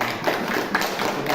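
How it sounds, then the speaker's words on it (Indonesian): Classroom of students clapping their hands, a short burst of dense, quick claps close by and fairly loud, with irregular accents through the brief stretch. "beri tepuk tangan"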